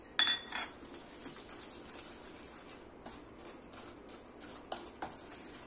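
Jaggery is whisked into a ragi cookie mixture in a bowl, with quiet clinks and taps of a whisk or spoon against the bowl, a few sharper knocks at the start and near the end, soft and close.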